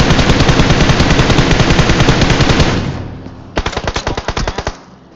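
Machine gun fire in a video game: a long, loud sustained burst of rapid automatic shots, then a pause and a second shorter burst of distinct rounds.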